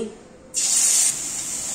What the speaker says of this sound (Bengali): এবার মশলাগুলোকে কড়াইতে দিয়ে দিচ্ছি